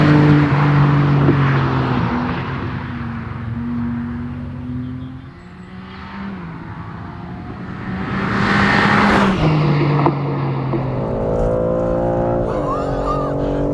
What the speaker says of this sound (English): This is now the end of lap 6